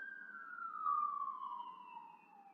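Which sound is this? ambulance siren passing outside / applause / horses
ambulance siren passing outside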